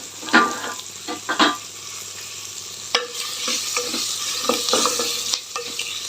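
Chopped onions fry and sizzle in a pan under steady stirring, with a spatula scraping in bursts over a constant hiss of frying, close and fairly loud, with no speech.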